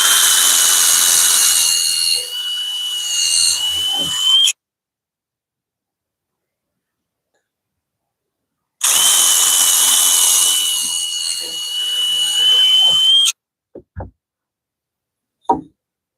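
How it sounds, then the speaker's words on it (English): A power drill bores a hole in a DIY mini truck camper build, running in two loud, sustained bursts of several seconds each with a whining motor tone, separated by silence and followed by a few knocks. "let's drill this hole and get that in there"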